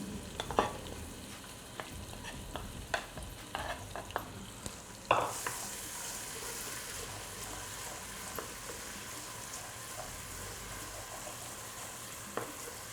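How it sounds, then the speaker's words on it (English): Ginger, garlic and green chilies frying in oil in a kadhai, a continuous soft sizzle with occasional spatula scrapes and clinks as the mix is stirred, growing louder partway through. "we'll put first ginger and garlic and then the green chilies"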